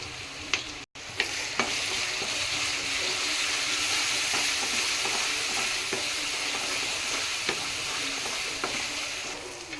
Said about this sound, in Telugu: ఆనియన్ అల్లం పేస్ట్ మంచిగా ఫ్రై అయినాయి